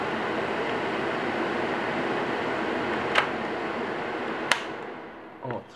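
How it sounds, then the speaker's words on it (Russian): Cata TF-5260 stainless steel kitchen range hood fan running at its third, highest speed, a steady broadband whoosh held throughout at moderate level, with two sharp clicks near the end before it fades. "Теперь давайте посмотрим, как у нас шумит вентилятор."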